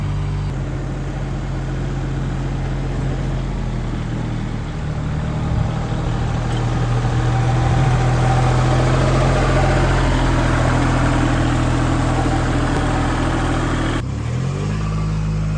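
A heavy tractor engine runs steadily at idle, with a low rumble that shifts pitch slightly before dropping near the end.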